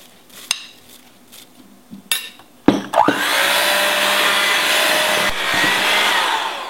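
An electric mixer beating oat and raisin cookie dough at low speed: after a few clinks of bowl and utensils, the motor starts with a jolt and settles into a steady, close whirring drone.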